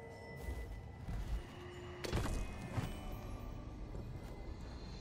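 Two dull, booming thuds of cannon fire from ships in a video game, about a second apart, sounding distant over a steady background hum.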